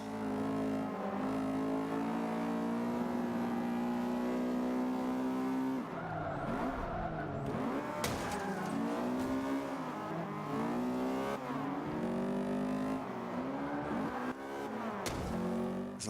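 Race car engines in the video game Forza 5 rev hard and continuously during a career race, with pitch sweeping up and down through gear changes and occasional tyre squeal, loud and alone with no talk.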